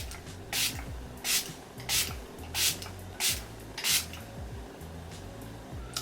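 Revolution Super Dewy hydrating face spray misted onto skin in six quick, evenly spaced bursts, each a short airy hiss close to the listener, with soft rubbing between them.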